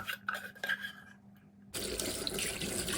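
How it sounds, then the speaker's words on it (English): Tap water gushes into a kitchen sink to wash spring onions, starting abruptly and then running loud and steady after a quieter stretch of small kitchen clatter. "So next, I'm going to wash my spring onions."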